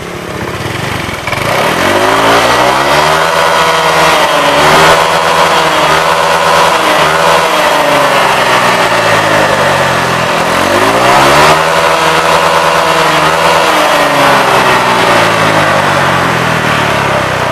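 A Honda Vario scooter engine revs steadily and loudly up close, its pitch rising and falling in two long swells over a sustained mechanical drone.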